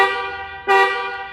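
Mahindra Thar diesel automatic hard top horn sounds a loud, close, steady honk that jumps in strength partway through, with no talk.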